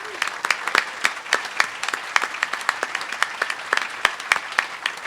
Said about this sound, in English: Will you please give a round of applause to the Mizzou athletics staff?